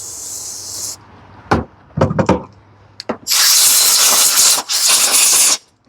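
A loud hissing blast of compressed air blows debris off a John Deere LA105 riding mower carburetor, after short puffs and some rattling handling close by.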